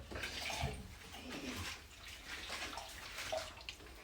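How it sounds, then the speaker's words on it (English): Water is poured from a vessel into a cooking pan while paneer makhni is being made: a quiet, continuous splashing pour with small gurgles, close by and alone without voices. "I'm going to add some water and put this all together."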